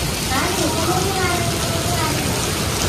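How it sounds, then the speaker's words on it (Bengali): Heavy rain pours steadily outside as a dense, unbroken hiss that fills the whole stretch, with a voice talking over it. "কত বৃষ্টি পড়ছে বাইরে, আজকে আর বৃষ্টি থামবে না।"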